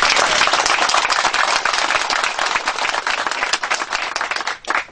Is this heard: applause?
yes